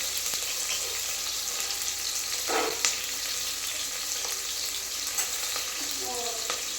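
Spices with a pinch of turmeric frying in a pan for a fish curry, a soft continuous sizzle with occasional stirring scrapes and small pops, fairly quiet and close.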